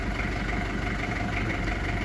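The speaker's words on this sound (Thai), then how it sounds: "คันนี้นะคะจะเป็นเครื่องยนต์ดีเซลนะคะ" A TCM 2.5-ton diesel forklift engine idles with a steady low, rattling drone, close by and unchanging throughout.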